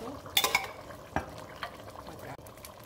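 Meat is tipped into a pot of cooked vegetables for tarkari biryani, with a few clanks of a spoon against the pot and soft stirring scrapes, close and fairly quiet.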